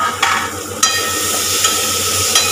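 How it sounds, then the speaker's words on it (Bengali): Masala for prawn dopiaza fries in a pan. A close, continuous sizzle runs under a few sharp scrapes and stirring knocks, with no talking. "অনেকটা ভাজা ভাজা হয়ে এসছে মশলাটা আমার"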